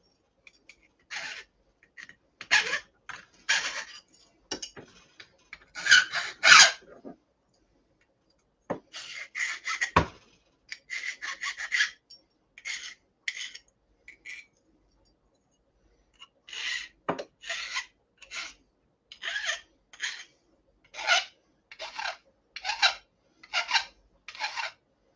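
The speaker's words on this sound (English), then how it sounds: "I file it until it's just starting to smooth out" A metal file rasps across a workpiece on a workbench in short, rhythmic bursts of scraping strokes, grouped in runs with brief pauses between, close and fairly quiet.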